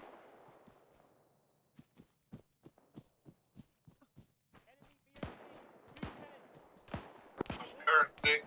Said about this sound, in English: Currently getting shot at.